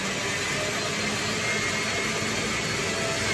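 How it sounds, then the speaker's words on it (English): Electric mixer beating butter while mousseline base is added for creme mousseline, a steady, continuous whirring drone heard alone at moderate volume. "I'm just going to start to add a little bit of the mousseline base to the butter and beat it in."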